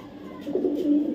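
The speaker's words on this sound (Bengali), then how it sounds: "আর একটা নর কবুতর, ব্লু বার দোবাস কবুতর" A male blue bar racing pigeon gives a single soft, close coo that rises briefly and fades after about a second.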